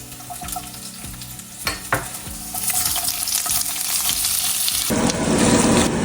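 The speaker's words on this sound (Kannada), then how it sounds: "ಇವಾಗ ನಾನು ಒಟ್ಟಿಗೆ ಚಿಲ್ಲಿ ಮತ್ತು ಚಕ್ಕೆ ಲವಂಗ ಹಾಕ್ಕೊಂಡಿದ್ದೀನಿ ಇದು ಸ್ವಲ್ಪ ಲೈಟಾಗಿ ಫ್ರೈ ಆದಮೇಲೆ ಇವಾಗ ಗಾರ್ಲಿಕ್ ಹಾಕ್ಕೊತಾ ಇದ್ದೀನಿ" Dried chili, cinnamon, cloves and garlic fry in hot oil in a pan, a steady sizzle with scraping stirs and clinks early on, swelling to a louder, fuller hiss near the end.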